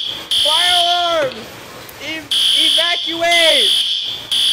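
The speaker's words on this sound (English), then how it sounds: "Fire alarm!" A loud, steady high-pitched fire alarm tone in a Roblox club game, sounding continuously with brief cut-outs while people shout excitedly over it.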